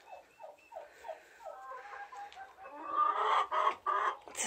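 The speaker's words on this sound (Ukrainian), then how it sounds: "Це сарочки, курочки." Hens and guinea fowl in a poultry house, a steady run of soft rhythmic clucks followed by louder, busier cackling toward the end, fairly close and unaccompanied by talk.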